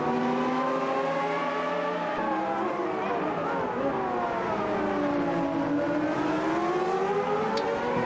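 Formula One cars race nose to tail around Interlagos in the Automobilista 2 sim, several high-revving engines whining together, their pitch sweeping up and down through the turns, loud and continuous with possible commentary underneath.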